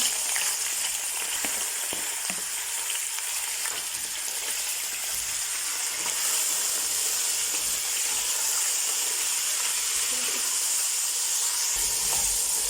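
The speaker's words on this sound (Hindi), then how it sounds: "चिकन को हम अच्छी तरह घी के अंदर मिक्स करेंगे, पकाएंगे।" Chicken pieces frying in ghee with browned onions for a chicken and pea pulao, giving a steady, close sizzle and hiss with occasional stirring scrapes and no talking.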